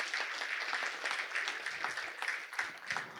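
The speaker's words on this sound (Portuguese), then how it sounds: "Uma salva de palmas." Dense, steady applause from an audience at a festival panel on entrepreneurship, a continuous wash of many hands clapping at moderate loudness with no voices over it.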